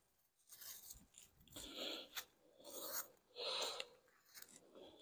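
Hive tool scraping and cutting burr comb from a beehive during winter preparation, a series of close rasping scrapes in uneven bursts with short pauses between strokes, no talk.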